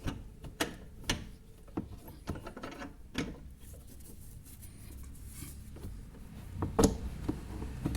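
Someone tightens a fastener on a car's front right steering, producing sparse metallic clicks and ratcheting ticks over a quiet background, close and irregular.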